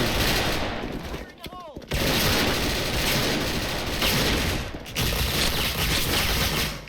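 Rapid, loud, close shotgun blasts from a Platinum Double Winchester in the Special Force online shooter game fire almost nonstop, with two short breaks between bursts.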